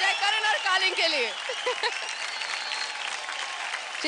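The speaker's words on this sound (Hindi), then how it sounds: "जोरदार तालियां हो जाए" Studio audience applause on a televised dance competition show, a burst of clapping with cheers and whoops at first, then settling into a lighter, steadier patter that fades slightly toward the end.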